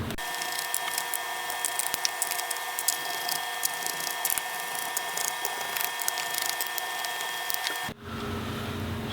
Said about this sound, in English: So we'll go ahead and remove those bottom case screws.